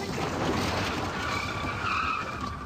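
Car tires skid and squeal on a highway during a ramming incident near a border, a harsh continuous scraping roar with a thin rising squeal layered on top, loud and close throughout.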